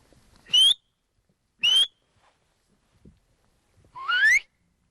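Three distant rising human whistles answering a herder across the Altai grassland in Siberia, two short ones and then a longer warbling one, each separated by quiet pauses in an otherwise still setting.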